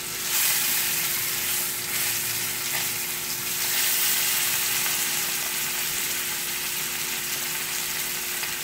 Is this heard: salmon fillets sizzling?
yes